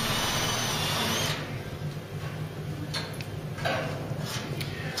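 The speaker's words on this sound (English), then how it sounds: "I find I drill right the way through, at the very least up to the first skin of metal, first layer." A cordless drill bores through car body metal during a classic car restoration, a steady high-pitched whine that eases off, then uneven grinding and ticking as the bit works, loud and close with no talk.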